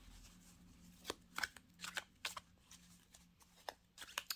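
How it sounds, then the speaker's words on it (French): A tarot card deck being cut and shuffled: soft papery riffles and slaps come in a few quick bursts over a faint background. The sound is close and quiet, with no speech. "ce que j'ai tendance à faire, c'est à couper et prendre la première carte"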